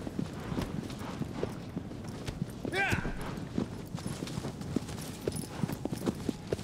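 Horse hooves clip-clop steadily in Shadow of the Colossus, quiet in-game trotting under game ambience and someone talking over it.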